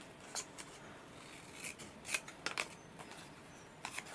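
Scissors snip through card during card making, a few short crisp cuts scattered over a quiet background, close and fairly soft.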